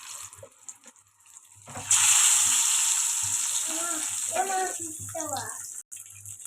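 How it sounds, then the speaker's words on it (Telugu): Eggs with turmeric fry in a pan with a loud, steady sizzle that starts abruptly and holds, a few faint metallic scrapes and low hum underneath, close and continuous. "ఇప్పుడు ఇందులోకి ఎగ్స్ అయితే ఫ్రై చేసుకుందాం ఇందులోకి పసుపు వేసుకొని ఎగ్స్ అయితే ఫ్రై చేసుకుందాం"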